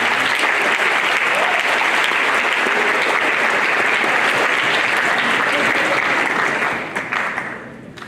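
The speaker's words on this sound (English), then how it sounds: "Let's give them a round of applause." Loud, dense applause from an audience at an evening civic Constitution Day program, a steady wash of many hands clapping together that holds strongly and then tapers off in the last second.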